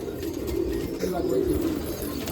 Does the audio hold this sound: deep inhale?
no